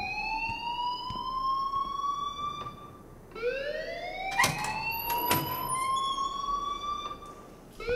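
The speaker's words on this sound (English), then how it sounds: "please turn off that alarm" An alarm sounding in the video game Life is Strange, a rising wail that sweeps upward and repeats over a steady background rumble, with a couple of sharp knocks partway through.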